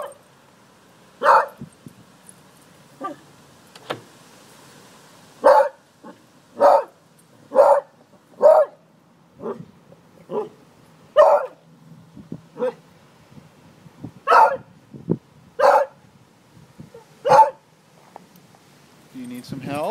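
A dog barks in sharp, separate bursts while fetching its ball outdoors, loud and close, with some whimpering yips between them and someone talking and urging it on in between.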